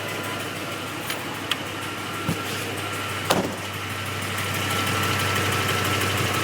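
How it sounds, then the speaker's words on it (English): Ford F-150 truck engine idling with an exhaust leak: a steady, close low rumble with a few faint ticks and clicks over it and no talking. "Never mind the exhaust leak in the truck."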